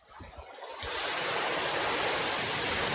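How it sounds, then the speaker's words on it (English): Floodwater rushes through Jamaica during a storm, a loud continuous churning roar that swells after a few low thumps at the start, with a high steady whine above it and no voices. "That is a lot of water there."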